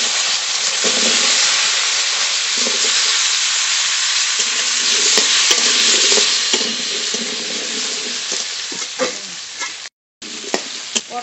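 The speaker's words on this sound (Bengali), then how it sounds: "মাছের তেলের ভেতরেই আলু দিলাম।" Cut potatoes frying in the oil left from frying fish give a loud, steady sizzle and hiss close by. Stirring knocks break in now and then, with a brief gap near the end and no voices.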